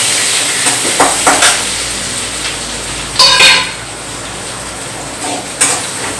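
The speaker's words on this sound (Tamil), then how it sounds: "நல்லா வதங்கட்டும்" Onions sauté in a pan for a pumpkin stir-fry, giving a soft, steady hiss broken by several louder scraping stir strokes.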